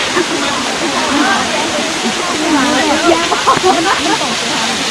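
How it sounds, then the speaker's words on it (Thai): Natural waterfall in Kengtung, Myanmar, a steady broadband rush of falling water filling the scene, close and continuous, with faint voices mixed in. "น้ำตกตรงนี้ยังเป็นธรรมชาติอยู่"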